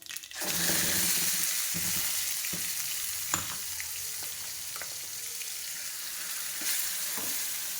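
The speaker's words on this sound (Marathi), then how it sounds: "मस्तपैकी आपल्या फोडणी झाली आहे. आता त्यामध्ये घालणार आहोत हे आपले केलेली टोमॅटोची पेस्ट" Tomato paste goes into a hot oil tempering with cumin for Maharashtrian tomato saar, setting off a loud continuous sizzle with stirring and scraping sounds throughout and no voices.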